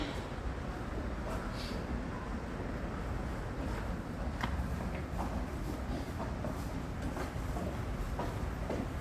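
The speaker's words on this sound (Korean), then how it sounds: "지금 들어오는 열차는 이역에 서지 않고 통과하는 열차입니다." A loud, continuous rumble and rushing roar of a subway train passing through a station without stopping, with rattling clicks, heard up close and steady throughout.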